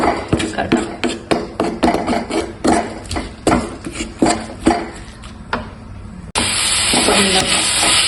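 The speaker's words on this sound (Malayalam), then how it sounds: "മസാലയൊക്കെ നന്നായിട്ട് മിക്സ് ചെയ്യാം" Masala is stirred in a hot pan for a quick curry, with a spoon scraping in a rhythmic series of close, loud strokes. A loud steady sizzle and hiss takes over at the end.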